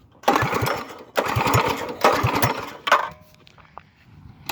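A Predator 212cc small engine is pull-cranked in three loud, rhythmic chugging bursts, with a short fourth pull trailing off, close up and without any talking.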